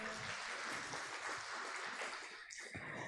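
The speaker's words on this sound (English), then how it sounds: "Let's give our helpers a round of applause." An audience claps for helpers at a gathering, a dense, even wash of applause heard from some distance, sustained and fairly quiet, dipping briefly near the end.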